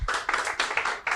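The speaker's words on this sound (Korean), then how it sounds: "역시 큰 박수로 발표 청해 듣도록 하겠습니다" Applause from the audience at a deep-tech innovation forum as the CEO of a vision-AI motion-capture company is called up to present, heard as a few distinct bursts of clapping rather than a broad, continuous ovation.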